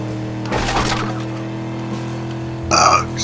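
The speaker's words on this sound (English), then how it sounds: "Excuse me, guys, I burped." A short, low, throaty burp at close range, rising over steady background game music and then tailing off, followed by a brighter electronic game chime.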